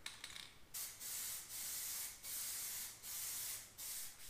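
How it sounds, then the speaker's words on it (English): Plasti Dip sprays from an aerosol can onto a Ram 1500/2500 truck grille in a steady close hiss, broken into several bursts with brief pauses as the angle changes. "you're really going to have to paint in different angles"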